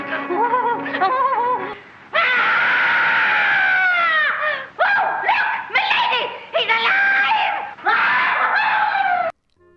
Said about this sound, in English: And that scream. Oh my gosh, that scream.